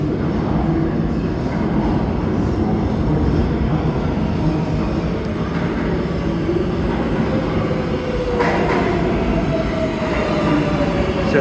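A CBTC-signalled metro train pulls into a station with a loud, continuous rumble of wheels on rail, a faint squeal rising near the end as it slows.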